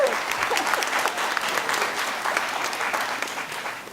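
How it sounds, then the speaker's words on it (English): A large audience at a Sacramento Darwin Day event breaks into steady, sustained applause, a dense wash of clapping holding at an even level from start to finish. "Stand and let's give him a round of applause."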